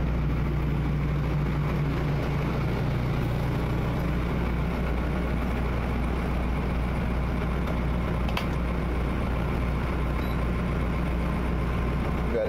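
The engine of a 1977 Thompson 44 trawler idles while heard from inside the cabin, its insulated engine room giving a low, steady, continuous drone with a faint hum above it and no talking.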